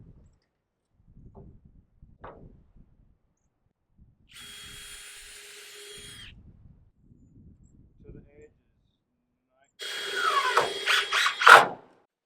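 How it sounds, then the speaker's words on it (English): Two bursts of a power drill pre-drilling wooden 1x4 boards for a livestock shelter, the second louder and rising in pitch, separated by quiet handling knocks and faint speech. "We're having to pre-drill these 1x4s a little bit."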